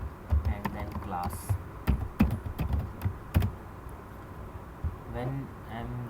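Keys clacking on a computer keyboard while typing HTML code, a quick irregular run of close taps followed by a quieter stretch, with a voice speaking briefly near the end.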